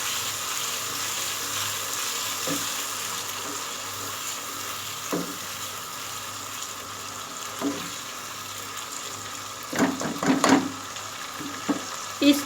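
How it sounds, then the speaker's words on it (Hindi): Masala for nargisi kofta (egg kofta) curry fries in a pan with a steady close sizzle and hiss, broken by occasional clinks and scrapes of stirring, with no talking. "अच्छी तरह हम भूनते जाएंगे।"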